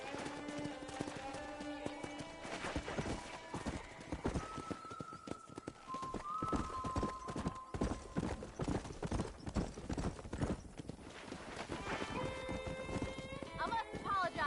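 Horse hooves gallop in the western game Red Dead Redemption, a fast steady clip-clop close by, with occasional whinnies and some game music tones layered over the rhythm.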